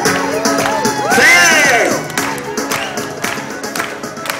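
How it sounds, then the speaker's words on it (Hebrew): A lively audience cheers and whoops, with some clapping, for a young girl after her dance at a private event, while a host's voice carries over the crowd. "תנו לה כפיים"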